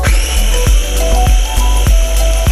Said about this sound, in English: After putting all the ingredients, turn on the grinder.